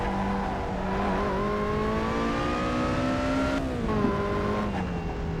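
A race car engine in the Assetto Corsa video game holds a steady, loud drone that climbs gradually in pitch under throttle, then briefly drops and recovers near the end, with no talk.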